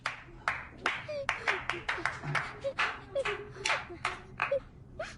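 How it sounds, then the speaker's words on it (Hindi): A few people clap sparsely for a child who has just sung, scattered distinct hand claps at moderate level over a quiet background, with voices speaking in between. "वाह, तालियां हो जाएं।"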